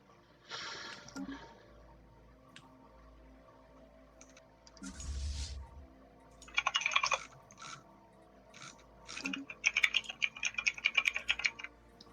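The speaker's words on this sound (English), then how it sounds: "All the typing. So much typing." Clusters of computer keyboard typing in bursts of keystrokes during a Stellaris strategy game session, moderately faint, with pauses between runs of rapid clicks and a soft low hum underneath.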